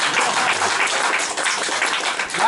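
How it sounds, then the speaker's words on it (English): A crowd of tech geeks at a London meetup breaks into loud, continuous applause. The dense clapping holds steady and fairly close, with no talking over it. "Wow, I wasn't expecting applause on that one."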